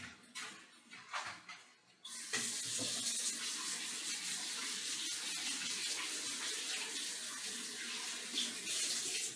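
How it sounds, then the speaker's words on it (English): A kitchen tap runs steadily as hands are washed beneath it after handling raw meat, the water gushing loudly and continuously after a few softer splashes. "Let me wash my hands after touching the meat."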